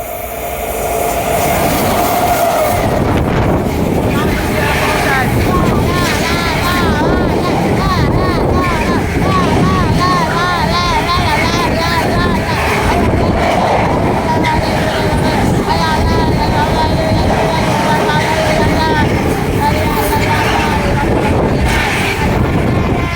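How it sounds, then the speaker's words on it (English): A pair of Freightliner Class 90 locomotives pass through Lichfield Trent Valley station with a loud, continuous rumble and rattle of wheels that lasts throughout, mixed with wind buffeting the microphone and some talk. "Here we have a Freightliner passing through. Oh, it's a pair of Freightliner class 90s!"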